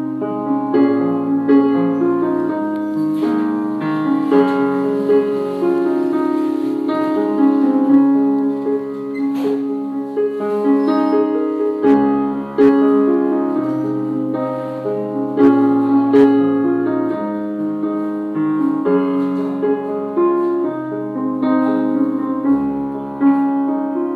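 A music test played through an Arirang amplifier: a steady, full, loud song with bass and melodic parts running continuously, with no talking.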